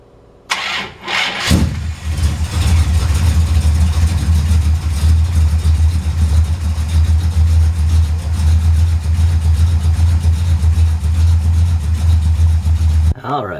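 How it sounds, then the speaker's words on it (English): A car engine fitted with a Holley carburetor cranks briefly, fires up and then holds a loud, steady idle close by for the rest of the stretch before cutting off at the end. "we'll fire it up and see if we can get the trickle of gas going"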